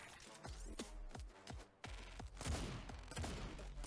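Bouncing bullets firing in the fast-paced bullet-dodger game Autogun Heroes, a rapid run of punchy gunshot bursts in a regular rhythm, then a denser, louder barrage of shots.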